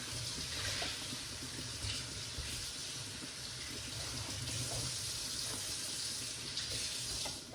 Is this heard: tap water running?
yes